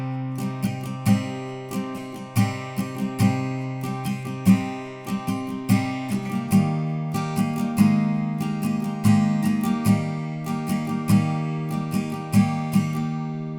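Guitar strumming the intro chords of a song, clear ringing chords struck in a steady rhythm with occasional sharper accents, played alone and close.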